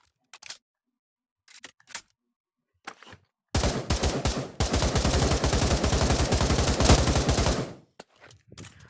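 Guns fired at a shooting range in the VR game Pavlov: a few scattered single clicks and shots, then a long rapid automatic burst of loud, close gunfire that cuts off into more sparse clicks.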